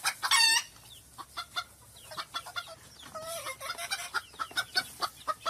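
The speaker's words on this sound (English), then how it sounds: "it's a chicken." A short rooster crow opens the sequence, then farmyard chickens cluck in quick, uneven bursts, moderately close and with no talking.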